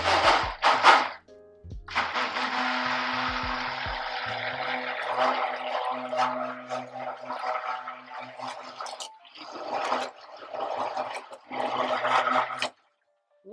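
A kitchen blender whirs through pink batter for chicken-and-mushroom crepes, first in a long steady run and then in several shorter pulses with brief pauses, close and fairly loud.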